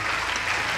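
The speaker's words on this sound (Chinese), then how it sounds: "给我们全国的护理师、全球的护理师们最热烈的掌声" Dense, continuous applause from an audience at a nursing award ceremony, loud and close throughout the brief moment.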